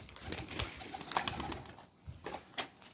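Pigeons cooing nearby, soft throaty coos repeating unevenly, with a few light rustles and flutters in between.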